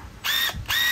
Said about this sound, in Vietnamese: một cây búa dầu của Makita